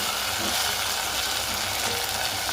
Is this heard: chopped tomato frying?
yes